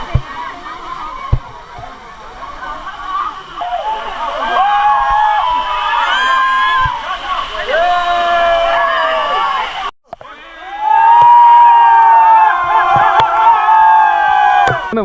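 A crowd gathered for a puja at an Amman temple below a hill peak cheers and shouts loudly together. The voices swell, cut off briefly and then come back louder and close.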